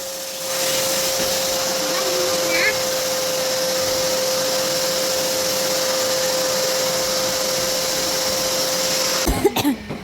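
A vacuum cleaner runs steadily in a bedroom under renovation, holding a constant drone for most of the ten seconds before cutting off with a few clunks at the end.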